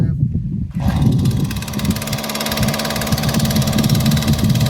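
Weedeater engine, used with a cultivator attachment to till a garden, catching right after a pull start and settling into a loud, steady buzzing run close by, with a voice speaking over it at the start.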